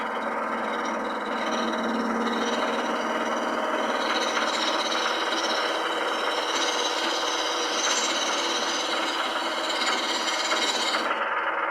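A wood-turning gouge slices into spinning wood with its bevel rubbing, giving a loud, continuous rasping shear that holds steady for about eleven seconds and then cuts off abruptly, with no talking.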